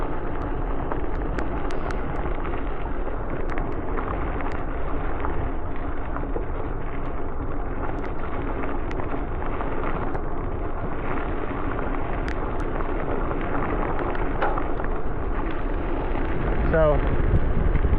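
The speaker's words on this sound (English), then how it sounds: "It's pretty windy." Strong wind roars steadily against the microphone outdoors, a continuous broadband rumble with gusty buffeting throughout.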